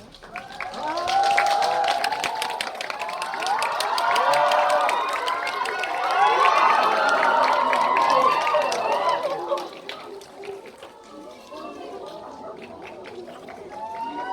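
A cinema audience at CGV Wangsimni greets the director and cast of Confidential Assignment 2 at a holiday stage appearance with vigorous clapping and high excited cheers and shrieks, which swell and then thin out toward the end.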